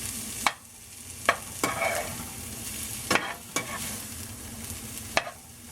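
Ground beef cooks in a pan with a low continuous sizzle, broken by several sharp clacks of a spoon stirring and scraping, close and without talk.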